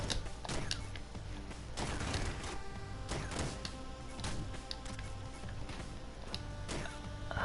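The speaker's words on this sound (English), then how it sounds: "Shotgun." Shotgun blasts in the retro arcade video game Downwell, a dense, continuous barrage of sharp crackling shots and crashes over loud game noise, with no talk.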